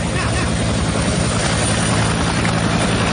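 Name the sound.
helicopter flyover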